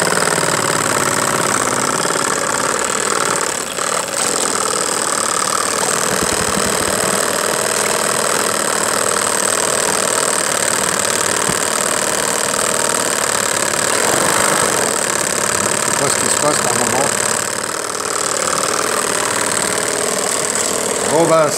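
A Saito model steam engine heated by a gas burner runs with a loud, continuous mechanical chugging and hum that holds steady throughout, close to the listener.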